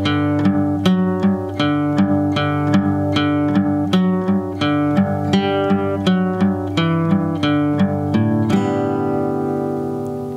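Acoustic guitar playing the intro of a song very slowly, with evenly spaced plucked notes ringing one after another and a final strummed chord left to fade, no voice.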